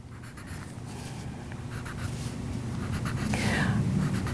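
A pencil scratches steadily along a ruler edge across a paper sewing pattern while seam allowance is marked, a close, continuous dry scraping that grows slightly louder toward the end.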